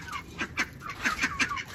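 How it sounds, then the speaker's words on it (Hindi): A rooster clucks in a quick run of short, bright calls, fairly close, with a faint low rumble of background noise underneath. "वो देखो मुर्गा अभी भी अंदर ही है"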